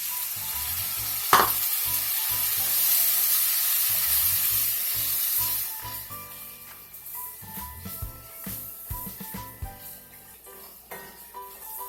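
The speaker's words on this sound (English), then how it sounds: "Now let's go ahead and add our tomato to this." Chicken karahi sizzles and fries loudly in a pan as tomato goes in, with a sharp splash near the start; afterward the frying quiets into scattered crackles and stirring clinks.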